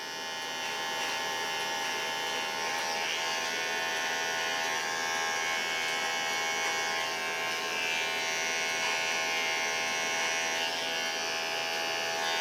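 An electric shaver buzzes continuously and steadily at close range, a high-pitched whirring hum with no pauses.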